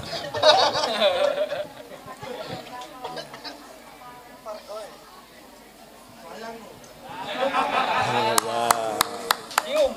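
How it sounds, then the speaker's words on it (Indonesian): An audience at a stage show chatters and laughs, then breaks into clapping near the end, with a few sharp, distinct claps standing out over the crowd noise. "Tepuk tangan semuanya yang meriah untuk Masda Yusuf Ganendra Khoirudin."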